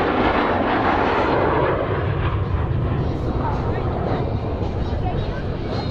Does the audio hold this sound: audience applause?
no